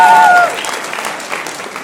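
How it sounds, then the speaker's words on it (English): Applause for Ms. Catherine Trajan at a Ray of the Day award event, a dense wash of clapping that swells at the start and then settles to a steady, softer roar, with a voice speaking briefly over the opening. "Another round of applause for Ms. Catherine Trajan"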